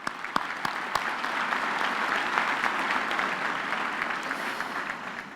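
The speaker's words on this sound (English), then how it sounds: "I think we can also give him a hand of applause" A large audience at a university graduation ceremony applauds, a dense, continuous wash of clapping that starts with a few sharp claps, swells and holds steady, then eases slightly toward the end.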